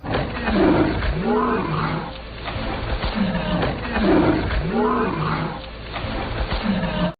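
Lions in a fight scene from the 2022 film Beast let out loud, close, rasping roars and snarls in repeated heaving surges, overlapping continuously.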